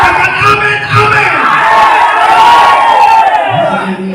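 A church congregation loudly shouting amen together, a dense, close roar of many voices swelling and holding, with a few higher whoops in the mix.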